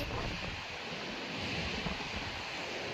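Ocean waves at a seashore near a lighthouse and temple wash in as a constant hissing surf, with wind buffeting the microphone and no clear separate breakers.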